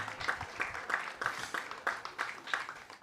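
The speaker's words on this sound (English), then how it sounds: "Let's give them all a big round of applause for coming out" Crowd at a high school varsity baseball game at a newly renovated field, applauding in a light, rhythmic clapping pattern of roughly evenly spaced claps, fairly faint and distant.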